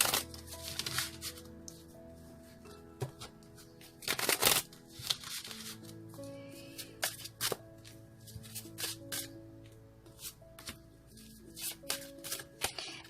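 Tarot cards being shuffled by hand in a quiet room, a series of crisp riffling bursts and soft slaps separated by short pauses, close and fairly faint.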